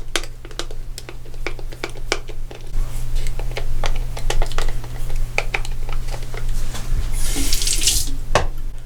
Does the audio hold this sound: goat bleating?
no